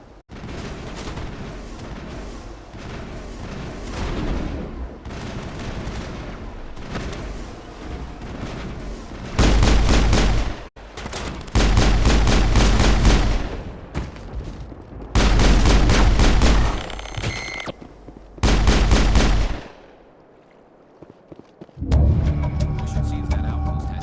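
Coordinated crossfire in Mass Effect, with repeated bursts of heavy gunfire and booming impacts alternating with quieter stretches, some muffled voices and ambient battle noise between the loud volleys.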